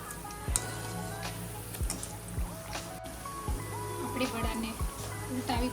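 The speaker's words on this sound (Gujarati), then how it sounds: "તેને પણ આપણે ક્રિસ્પી એવા ગોલ્ડન બ્રાઉન કલરના તળીશું" Dal vada fritters fry in hot oil, giving a steady, quiet sizzle with occasional sharp crackles and pops.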